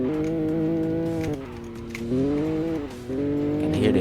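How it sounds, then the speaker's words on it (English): A heavily tuned BMW G82 M4 CS at speed squeals its tires through a hard corner, a steady pitched screech over engine drone that dips and rises in several waves. "You can hear the tires screeching,"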